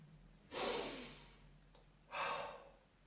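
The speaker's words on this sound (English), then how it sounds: "Well, first of all, breathing." A conductor draws in breath before starting a phrase: two soft, close, airy inhalations about a second and a half apart, with no talking.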